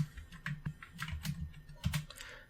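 Keys clatter on a computer keyboard in an irregular run of close, fairly quiet clicks, the typing done while editing in the Vim 7.4 text editor, with no voices present.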